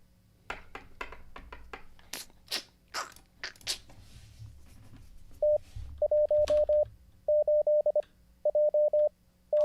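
Clear, steady Morse code tones send the character X in repeated groups of short and long beeps, preceded by scattered clicks and taps from a key or buttons.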